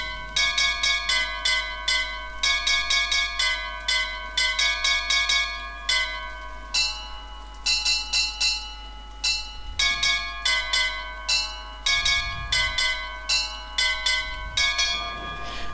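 A bell tune rings out in BioShock Infinite's lighthouse section, with clear repeated chimes in quick melodic runs and short pauses, loud and alone with no talk.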